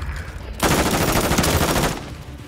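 Rapid automatic gunfire from the shooter game Modern Warfare III, a dense burst of shots running for over a second at close range, then cutting off.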